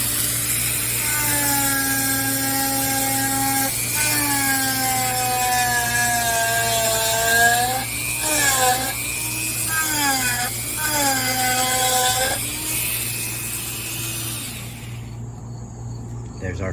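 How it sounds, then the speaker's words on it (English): Dremel rotary tool with a Kutzall Extreme bit carving a wood spirit, a loud steady high whine with pitch dips as the bit bites into the wood, running continuously close by and stopping near the end. "I have my Kutzall Extreme and my Dremel here. And we'll just cut that out."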